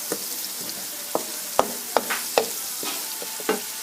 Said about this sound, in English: Again, mixing that around.